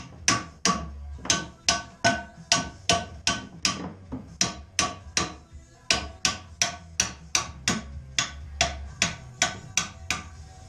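Steady, rhythmic metal hammer blows driving a tight pin out with a jig, about two per second, loud and close, each strike ringing sharply with no talking.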